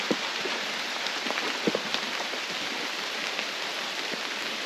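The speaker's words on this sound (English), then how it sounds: "It's, a little bit of rain." Light rain falls in the Amazon rainforest of Cuyabeno, Ecuador, a steady soft hiss of drops on leaves with scattered closer patters and taps throughout, and no voices.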